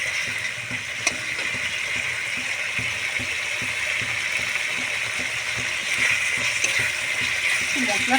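Spice masala being sautéed in a pan for a cauliflower and broccoli lentil-fritter dish, with a steady close sizzle and frying hiss and repeated light scraping stir strokes throughout.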